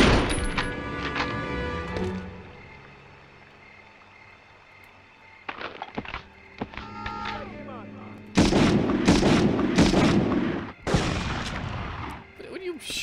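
Gunfire in video game combat: rapid volleys of sharp shots and heavy booming bursts, loud and close, coming in clustered rounds with short quieter gaps between them.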